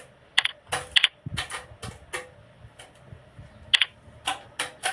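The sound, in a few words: typing login credentials on a computer keyboard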